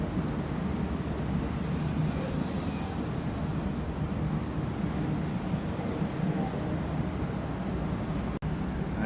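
Argo Dwipangga New Generation luxury train departing from a station, a continuous loud rolling rumble of railcars passing close by, with high metallic wheel squeals rising partway through.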